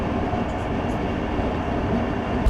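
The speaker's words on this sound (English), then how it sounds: "we're waiting for the train in Warsaw" A train rumbles steadily nearby at a railway station in Warsaw with a low, continuous roar and faint rattling of wheels, no voices, a brief louder thump near the end.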